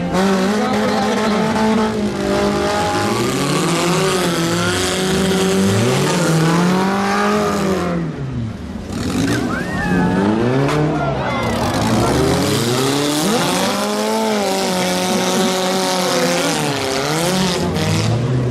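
Demolition derby cars race figure-8 laps with a jump in Barrie, Ontario, engines revving hard in repeated rising and falling sweeps, with tires squealing and an announcer talking over the loud, continuous roar.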